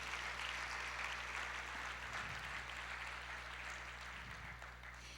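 A church congregation claps together steadily, a dense continuous wash of applause at moderate level with a low hum underneath and no voices.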